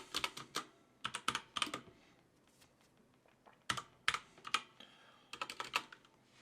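Python code is typed on a computer keyboard in quick clusters of crisp, close keystrokes separated by brief pauses.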